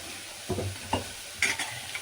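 Three short bursts of scraping and stirring coconut milk biryani in a pan, with a soft sizzle underneath; close and fairly quiet, no voices.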